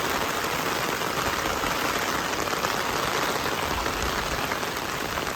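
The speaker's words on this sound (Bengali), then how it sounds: "অস্থির বৃষ্টি নামছে।" Heavy rain pours steadily over a Bangladeshi village road, a dense, even hiss of drops on surfaces that stays loud and unbroken throughout, with no voices.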